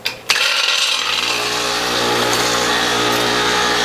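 A Whole Health Foundation Premium juicer motor starts with a couple of sharp clunks, then grinds ice cubes in a loud, steady, dense whirring roar that holds to the end.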